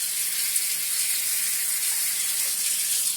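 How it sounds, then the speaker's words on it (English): An Aerolatte milk frother whisk is rinsed under a running kitchen tap, giving a steady, close hiss of flowing water that holds evenly for the whole stretch. "I then run the whisk under the tap,"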